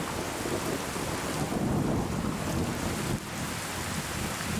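Heavy rain in Fallout 4 VR, a broad continuous wash with a low rumbling undertone, steady and enveloping, dipping briefly near the end, no voices.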